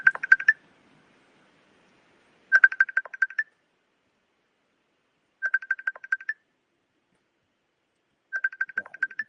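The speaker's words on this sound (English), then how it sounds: "Oh, somebody's phoning me." A phone rings during an online seminar: four evenly spaced bursts of electronic trilling ring tone, each about a second long, separated by silence, clear and without talk.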